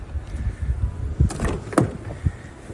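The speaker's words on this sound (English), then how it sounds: "Power sliding doors." Power sliding door on a 2023 Chrysler Pacifica Limited minivan, heard as a short run of mechanical clunks and a motorized whir with a latch thud, close by and without talk.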